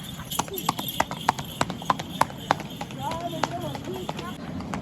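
Rhythmic clip-clop of horse hooves trotting nearby at Mount Abu, Rajasthan, a quick run of sharp hoofbeats, then softer steps as people talk in the background.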